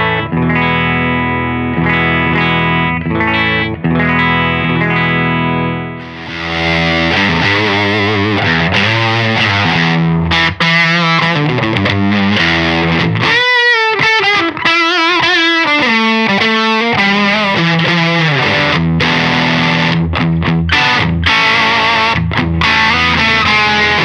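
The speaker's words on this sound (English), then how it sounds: "Silk tone amp sounds like this." An electric guitar, a McGinney Satellite, plays through a Silktone amp. Loud, driven and effects-laden phrases with sustained chords and quick runs continue for about twenty seconds, with no talking.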